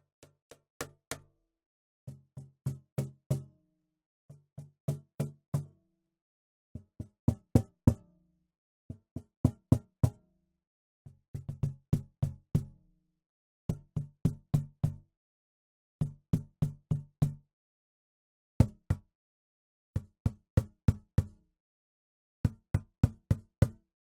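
Groups of sharp percussive drum hits from a velocity-sensitive percussion sample library, played in quick bursts of three to six, separated by short silences, each hit dry and clear with rising and falling strength.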